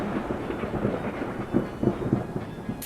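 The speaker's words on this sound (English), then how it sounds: "Drone footage captures a blinding lightning strike over Gatlinburg, revealing the raw power of a mountain thunderstorm." A mountain thunderstorm over Gatlinburg after a lightning strike: a low, rolling rumble of thunder with a steady rain-like hiss and a few heavier booms, with no one talking.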